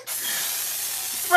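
A steady aerosol hiss sprays continuously from a can of silly string in a bathroom, close and fairly loud, ending with a brief burst of louder noise.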